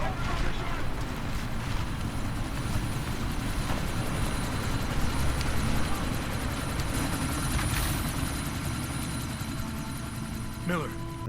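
Helicopter in the video game Deus Ex: Mankind Divided, a steady, loud rotor and engine drone that fills the whole stretch without letup, close and continuous.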